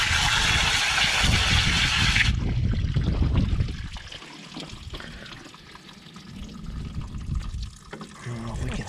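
Water trickles and pours through the clogged radiator of an overheating excavator, a steady wet splashing that thins out midway, with faint engine hum and background noise.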